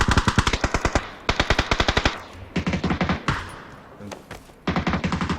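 Rapid bursts of automatic gunfire in PUBG: Battlegrounds crackle in quick rhythmic volleys, pausing briefly between strings of shots, loud and close.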